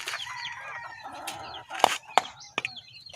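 Domestic chickens, a rooster among them, clucking and calling near their chicks in a farmyard, a busy layered chatter with several sharp, louder squawks toward the end.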